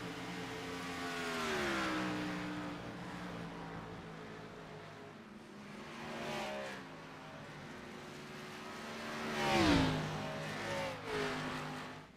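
Race car engines from a NASCAR-style racing game at Homestead, a steady roaring drone with pitch sweeping up and down as cars run laps and pass, surging loudest near the end.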